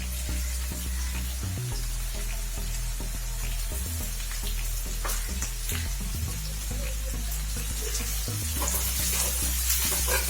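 Chopped garlic and ginger fry in hot oil for Schezwan sauce, giving a continuous close sizzle and crackle over a low steady hum, with no talking.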